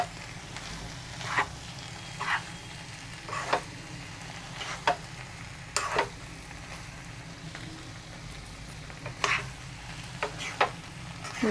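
Mixed vegetables stirred in a pan, quiet steady sizzling under repeated scrapes and taps of a spoon against the pan at irregular intervals.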